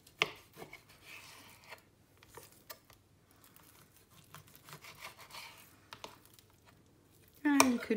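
Knife cutting raw chicken on a board, a series of soft irregular chops and scrapes at close range, with quiet gaps and a louder thump at the end.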